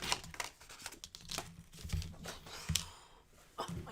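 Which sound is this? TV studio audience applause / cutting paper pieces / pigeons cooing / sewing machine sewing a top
cutting paper pieces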